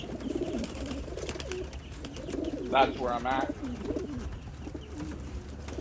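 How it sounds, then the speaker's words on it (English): Pigeons cooing up close in soft rolling bursts, with a person speaking briefly over them and faint background ambience. "a foot away from these pigeons."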